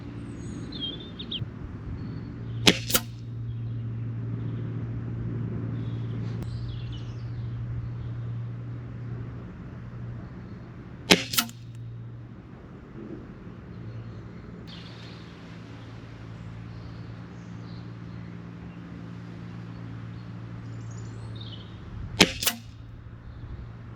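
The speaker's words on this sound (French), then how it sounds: "Elle est quand même vachement bruyante comme carabine." Three sharp, loud shots from a Stoeger XM1 air rifle, spaced several seconds apart, each a crisp crack standing out over a steady low hum of background noise.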